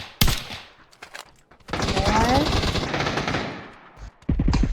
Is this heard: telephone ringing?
no